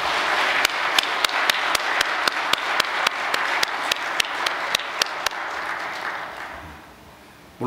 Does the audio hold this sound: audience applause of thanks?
yes